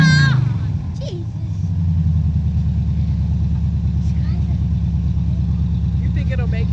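A 1979 Chevy Impala engine idles steadily and close, a low throbbing rumble that holds even throughout, with a brief voice at the start.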